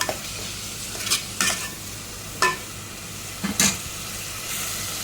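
Prawn keema balls frying for a curry, a steady low sizzle of oil with several brief stirring scrapes at irregular intervals, close by and with no talking.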